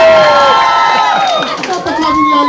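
A crowd cheers and applauds loudly for the mayor at a daycare center signing event, with whoops and shouting voices overlapping close by throughout.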